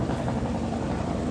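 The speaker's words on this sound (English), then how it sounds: "Excuse the helicopter overhead" Helicopter passing overhead near a hotel, a steady low rotor rumble with continuous engine drone, loud and unbroken for the whole short stretch.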